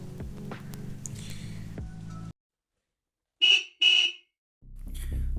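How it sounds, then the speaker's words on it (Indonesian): A motorcycle horn sounds as a story sound effect, two short, loud, bright beeps that stand out after a sudden silence, framed by a murmur of background noise before and after. "Suara klakson motor memecah lamunan Komar."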